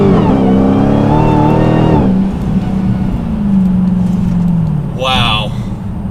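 A 2019 Dodge Challenger Hellcat Redeye accelerating hard, its loud engine roar rising and then settling while a high supercharger whine sits on top, with someone talking over it.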